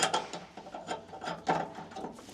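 A hand ratchet tightens lock nuts on a 2025 GMC B&W gooseneck hitch, producing a series of quick, close clicking strokes in uneven bursts, fairly quiet and with no talking.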